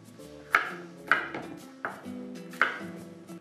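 Knife chopping a bell pepper on a cutting board, four sharp knocks spaced unevenly over a few seconds, close and fairly loud with a soft tonal hum beneath.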